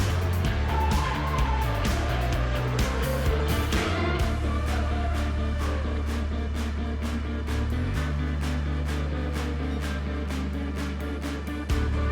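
Race car engine in Gran Turismo 7 droning loudly throughout, with shifting pitch and a brief broadband slide around the middle as the car nearly loses grip, set against continuous game audio.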